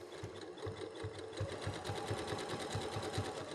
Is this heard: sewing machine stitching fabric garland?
yes